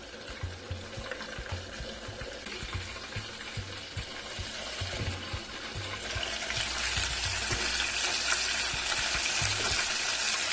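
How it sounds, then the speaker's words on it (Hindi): Chicken drumsticks fry in a toaster oven with a steady, dense sizzle and crackle that holds throughout and swells louder in the second half, with faint low mechanical thumps beneath. "तकरीबन 10 मिनट इसको मैं फ्राई करूंगी टोस्टर में"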